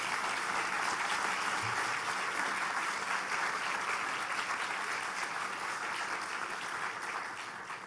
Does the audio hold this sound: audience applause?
yes